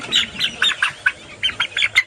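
A rapid series of sharp, harsh squawks from fighting roosters on a farm, loud and close, coming in quick uneven bursts.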